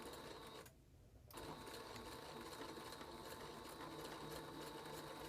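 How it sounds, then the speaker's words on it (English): A sewing machine runs steadily in a fast, even stitching hum while sewing a pocket onto a simple shopping tote, pausing briefly near the start before resuming, close and alone. "I'll stop the machine, lower the needle, raise the presser foot, and turn the entire project 90 degrees"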